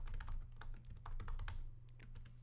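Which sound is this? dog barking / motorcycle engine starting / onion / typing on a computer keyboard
typing on a computer keyboard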